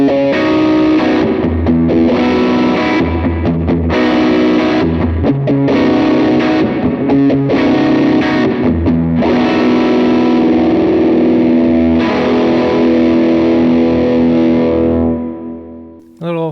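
Electric guitar played through a large pedalboard with spring reverb, loud, continuous, and distorted, with strummed chords and riffs that ring out and fade at the end.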